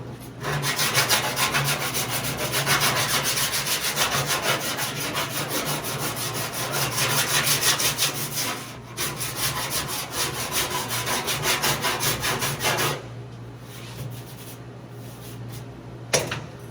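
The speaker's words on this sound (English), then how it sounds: "Now I ran a metal file over the top of it." A metal file rasps over welded sheet metal on a Ford unibody car body, making long, loud, continuous rubbing strokes close by that stop briefly near the end.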